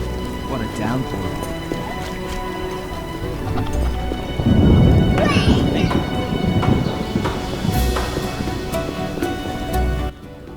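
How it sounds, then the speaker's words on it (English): Heavy rain pours steadily in the game The Witcher while a deep rumble of thunder swells in the middle, with voices speaking over the storm. "What a downpour."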